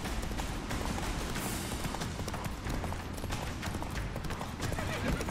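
Horse in The Witcher 3 video game galloping with a rapid clip-clop of hooves and a neigh, mixed with combat noise and voices.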